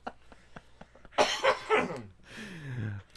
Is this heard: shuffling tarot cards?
no